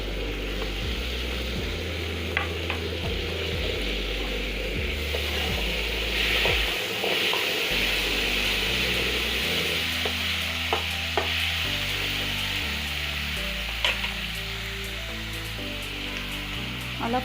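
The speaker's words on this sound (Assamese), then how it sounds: "পিঁয়াজখিনি ভাজি অলপ ৰঙচুৱা হ'লে আমি মিহিকৈ কুটা বিলাহী দিম" Onions and tomatoes frying in a pan while being stirred, a constant crackling sizzle with repeated scraping and clacks of the spoon against the pan, close and without speech.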